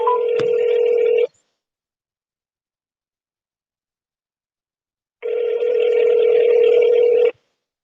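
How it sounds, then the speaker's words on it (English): A phone call rings out in two long ringback tones separated by a silent gap, loud and clear, with a short click at the start of the first tone. "we're gonna call Snow Cone right now"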